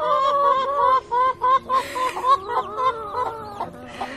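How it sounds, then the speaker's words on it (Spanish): Hens cluck and squabble loudly and close by while sorting out their pecking order, a busy overlapping chorus of rhythmic clucks and sharper squawks with no talking. "Así es como funcionan las gallinas. De hecho, ahí están métele peleando."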